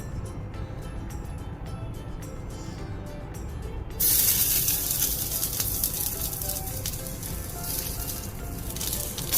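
Semolina roasts in a pan with edible gum added, a steady loud sizzle and hiss that jumps brighter and louder as the gum goes in, continuing without speech.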